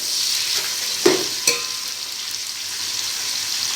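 Onions frying gently on low heat in a pan for chicken pulao, a steady soft sizzle with a couple of sharp stirring clinks near the middle, no talking.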